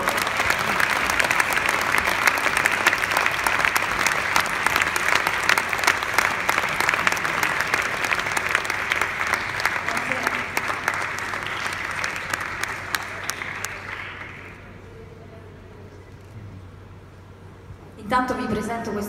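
A concert audience at a charity event applauds a singer, sustained dense clapping from a large crowd that gradually thins and fades out before a brief sound at the end.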